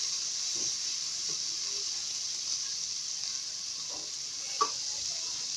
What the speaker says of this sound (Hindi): इसका हम थोड़ा सा फ्राई करेंगे एक आधा मिनट में